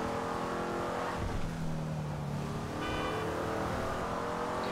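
A car engine drives steadily in GTA 5, a retro car holding a loud, continuous motor drone with shifting tone and a brief higher whine near the end, close and unbroken, no voices.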